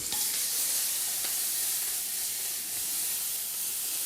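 Quartered scallops sear in a hot pan, giving a steady, close, continuous sizzle and hiss with no pauses and no talking.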